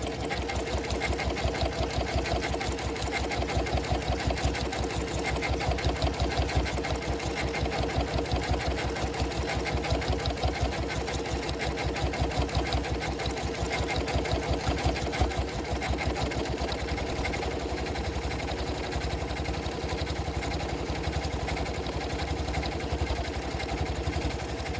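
A sewing machine runs steadily, stitching along a quilt seam, its fast even mechanical chatter continuing close and unbroken throughout.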